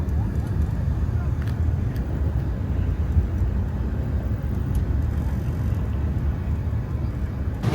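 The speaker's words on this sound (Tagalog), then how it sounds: "Traffic." Road traffic in the Philippines rumbles as a continuous low, loud drone of engines, with faint clicks and rattles scattered above and no clear passing vehicles.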